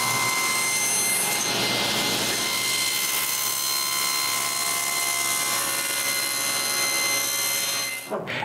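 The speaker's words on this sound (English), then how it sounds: "I'm using my slot mortiser because I was not satisfied with the slot I made with the drill press" A slot mortiser bores slots in wood, a loud, steady high-pitched machine whine with a grinding cutting edge that holds for several seconds, then cuts off abruptly near the end.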